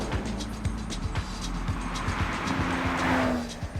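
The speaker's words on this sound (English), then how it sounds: "this car sounds magnificent. The engine behind you," A 2022 Porsche 911 Targa 4 GTS engine sounds from behind the cabin while driving, a steady mechanical drone with rising pitch sweeps as it pulls through the gears, fairly close and continuous.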